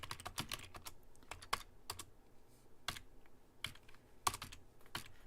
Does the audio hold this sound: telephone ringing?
no